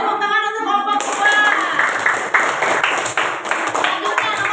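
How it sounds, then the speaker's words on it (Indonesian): Classroom of primary school children clapping for a group, a burst of brisk applause that starts after a short bit of voice and continues steadily, fairly close and loud. "Silakan kembali tepuk tangan untuk kelompok 2."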